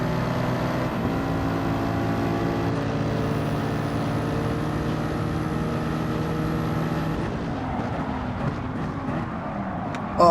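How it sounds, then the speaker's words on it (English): A Mercedes race car engine in Gran Turismo 7 drones loud and steady with layered harmonic tones that hold through several gear stages, then fades slightly near the end. "Oh, listen to that Mercedes engine."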